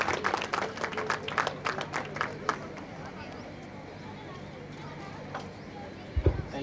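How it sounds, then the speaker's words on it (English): Parents and students in a school career fair audience applaud in a scattered burst that is strong at first, then fades after about two seconds into room murmur, with a few stray claps and a thump near the end. "Big round of applause from our audience, parents and students"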